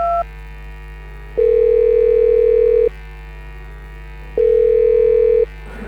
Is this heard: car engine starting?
no